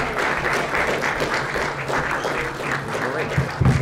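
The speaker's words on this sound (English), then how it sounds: "Let's give these volunteers a nice round of applause." A lecture-hall audience at a mental maths magic show applauds volunteers coming up on stage, a moderate wash of clapping with some murmuring and movement mixed in.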